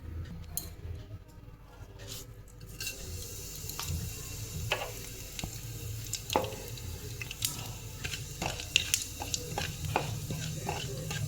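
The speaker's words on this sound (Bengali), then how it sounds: "তেলে শুকনো লঙ্কা আর কালো জিরে দিয়েছি আমি" Dried red chillies and black cumin frying in oil in a pan, a soft continuous sizzle with occasional sharp pops and clicks, close and fairly quiet, with no talk.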